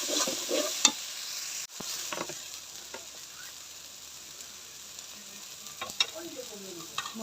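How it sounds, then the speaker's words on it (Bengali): Spice masala with a little chili powder sautés in a pan for a vegetarian potato dum, giving a steady soft sizzle broken by occasional scraping stirs and spoon taps, with no talking. "মরিচের গুঁড়াটা আমি অল্প করে দিলাম। ভালো করে কষাই নিব।"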